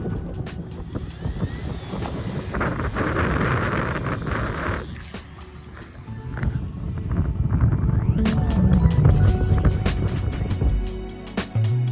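Steady wind rush over a small FPV flying wing cruising into a breezy headwind, with a constant motor drone and whistling tones, loud and continuous without talk.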